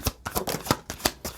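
Tarot cards are shuffled close up in a steady riffling rhythm, each pass a crisp papery burst repeating about every third of a second.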